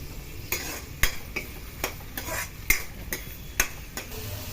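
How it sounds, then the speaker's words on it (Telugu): Onion pieces sizzle softly in a pan during fish curry preparation, with a steady low fry punctuated by several sharp clicks and scrapes of a utensil stirring against the pan, no talking. "ఉల్లిపాయ ముక్కలు బాగా వేగాయండి."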